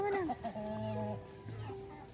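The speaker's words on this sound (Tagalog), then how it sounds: "Yung mga manok na yan o." Farmyard chickens clucking at close range during morning feeding on a provincial farm, a few short squawks followed by longer drawn-out clucks, with a faint voice in the background.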